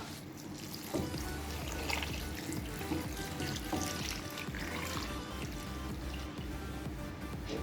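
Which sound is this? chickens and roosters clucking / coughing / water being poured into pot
water being poured into pot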